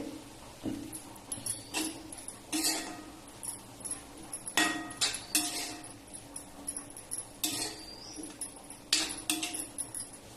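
Oil added by spoon to a pan of Malvani-style cowpea leaf vegetable cooking without tempering, with scattered light metallic clinks of a spoon against the pot, close and fairly soft amid quiet kitchen noise.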